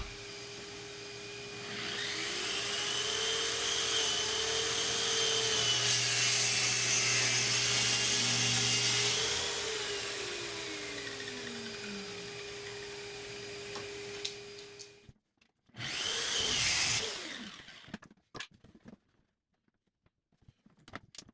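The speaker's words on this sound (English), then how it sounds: "slice away with the track saw" A track saw cuts through plywood with a loud, steady whine that lasts about thirteen seconds before winding down, followed by a brief second burst of the motor.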